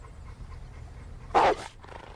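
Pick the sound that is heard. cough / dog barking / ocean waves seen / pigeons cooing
dog barking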